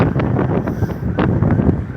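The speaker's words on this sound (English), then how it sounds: "It's really windy here." Strong wind buffets the microphone outdoors in Phoenix Park, producing a constant low roar with irregular rumbling gusts.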